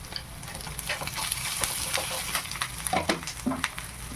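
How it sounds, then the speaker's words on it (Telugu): Curry leaves and turmeric frying in a pan while gongura chicken curry is being made: a steady, close sizzling hiss broken by scattered scrapes and clicks of stirring, moderately loud, with no talking. "ఇదిగోండి వేగుతుంది కదా"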